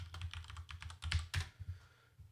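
Fingers type on a computer keyboard, a quick close run of soft clicks and clacks with a couple of firmer key strikes, heard alone and faint.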